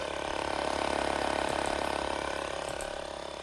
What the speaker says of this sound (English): So this is the rear tyre, which should be 51 psi. This is showing about 44 psi. So again, we'll just pump this one up.